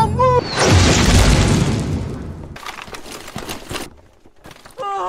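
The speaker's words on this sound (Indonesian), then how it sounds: "Luo yang berperan sebagai sniper mencoba melakukan penyelamatan dengan menembak sisi bahu Adam hingga tembus mengenai teroris tersebut" Sniper rifle fired in an action film rescue scene, a loud booming shot with a heavy rolling blast and debris-like crackle, followed by quieter action noise and brief voices.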